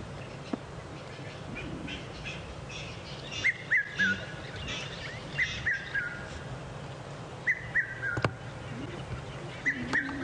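A cuckoo calls during an evening safari drive, short paired notes repeating several times at a moderate distance over a low idling vehicle rumble and faint background noise.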